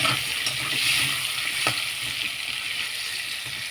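Pumpkin pieces fry in oil with a steady broadband sizzle that holds for several seconds, joined by a few faint clicks of stirring.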